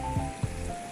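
Rain falls on the slippery rocks at Vadattupara Kuthu waterfall near Cochin, a faint, steady patter with two soft low thumps.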